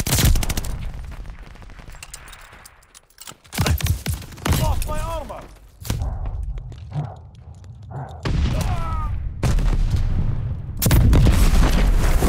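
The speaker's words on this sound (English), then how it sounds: "Enemy's got a glide bomb incoming." In Call of Duty: Vanguard, a glide bomb detonates amid bursts of gunfire and booming blasts, loud and chaotic, with voices calling out over the battle noise.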